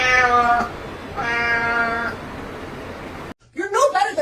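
An orange cat meows twice in drawn-out, wavering cries with a short pause between, close and clear, followed after a brief silence by a louder, rising yowl.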